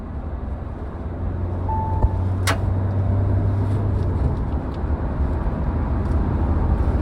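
The engine of a Mahindra Thar 4x2 is pushed at full throttle while driving at speed, heard as a steady, loud, low drone with road and wind rumble inside the cabin and no break in the sound.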